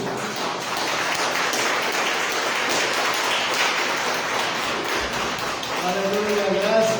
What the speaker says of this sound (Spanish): Cuando dicen amén, denle aplauso al Señor Jesús.